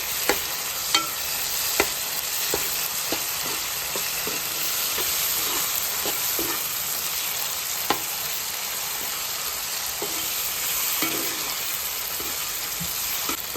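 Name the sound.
chana dal and ginger garlic paste frying in oil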